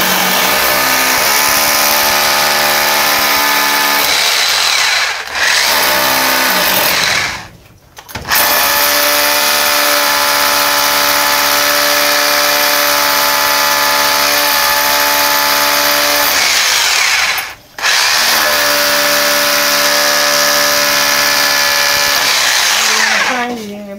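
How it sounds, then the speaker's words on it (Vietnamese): A power drill bores a deep hole during electrical repair work, its loud steady motor whine running continuously with two short pauses where it stops and restarts, and voices talk over it. "mũi khoan mà anh khoan sâu bắt vô đó."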